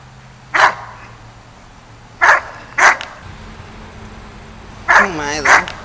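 A stubborn old dog barks in sharp, close bursts, five loud yaps spaced irregularly with whiny, pitch-bending yelps near the end, over quiet room background.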